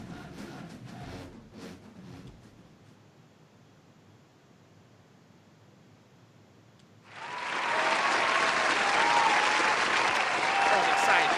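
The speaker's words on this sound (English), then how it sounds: "we got the people clapping" A live stage show audience claps: after several seconds of quiet talk and low room hiss, a dense wave of applause bursts in and continues loud and steady to the end.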